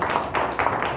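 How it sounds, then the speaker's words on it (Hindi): A congregation at a Sunday church service claps loudly, several brisk hand claps close together in a short burst, with no voices over them. "आइए फिर जोरदार तालियां दें"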